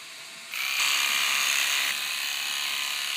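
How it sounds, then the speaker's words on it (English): Electric horse clippers run steadily while being drawn sideways through a horse's coat during a trace or blanket clip, a close, continuous high buzzing that rises in pitch as the blades bite into the hair, then eases. "and then I'll use the clippers sideways."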